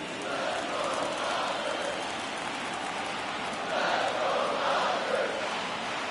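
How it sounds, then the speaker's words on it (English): A stadium crowd roars and cheers during a baseball game in MLB The Show 24, with rally towels out, as a dense continuous swell that rises in waves without clear speech. "the rally towels come out and the crowd energy gets cranked up even higher"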